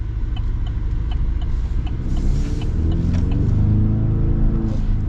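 A 2025 GMC Sierra 1500 PRO pickup runs with a steady low rumble and mild road noise, fairly quiet and smooth throughout.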